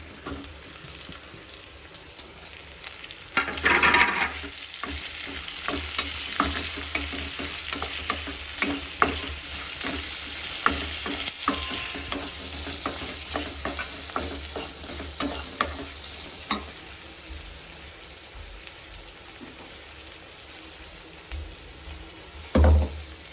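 Capsicum and green chillies fry in a pan with steady sizzling, broken by repeated stirring scrapes and clatters of a spoon over about twenty seconds, with a louder knock near the end.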